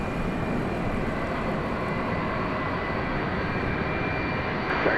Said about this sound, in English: here comes that 757. Such a nice looking aircraft.